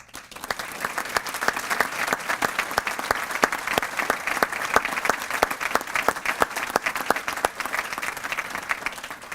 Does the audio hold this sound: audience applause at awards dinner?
yes